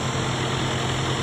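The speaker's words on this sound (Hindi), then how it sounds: "थ्रेशर लगी हुई जी। ये ट्रैक्टर है अल्हम्दुलिल्लाह" A farm tractor idles with a thresher attached, giving a steady, loud low engine drone that holds even throughout with no voices.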